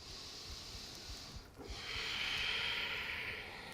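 During a yoga stretch, slow deep breathing is heard close up as a soft inhale-exhale hiss, with a fuller breath swelling toward the end.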